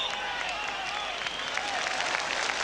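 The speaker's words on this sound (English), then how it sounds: "And warm applause around the ground for Ali Dick." Warm applause from the stands of a football ground as a substituted player comes on during a 1983/84 UEFA Cup third-round second-leg match between Tottenham Hotspur and Bayern Munich, a steady distant wash of clapping throughout.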